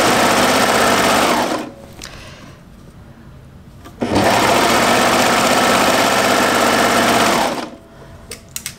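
A sewing machine runs loud and close, stitching a knit jumpsuit leg around the pocket opening in two long steady bursts with a quiet pause between them.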